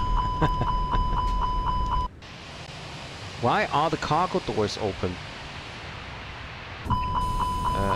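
Cockpit warning beeps in a Fenix A320 in Microsoft Flight Simulator 2024: a rapid string of regular electronic beeps at the start that stop, then return near the end, with a voice talking in the middle.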